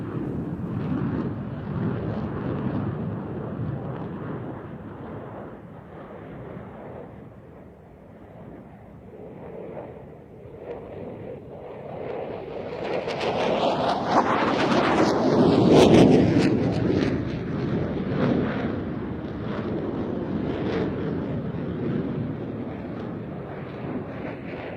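A JF-17 and an F-16 fighter jet fly a side-by-side Cuban 8 at Airshow Turkey 100 in Izmir in 2011, their engines a broad distant roar that swells into a loud whooshing pass and then recedes.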